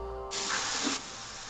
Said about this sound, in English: The paint spray helps make them then last a lot longer.